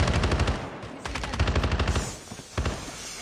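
Gunfire in a battle royale video game match: loud, rapid automatic bursts of shots in quick rhythmic volleys with short gaps between them, fairly close, with no talk over it.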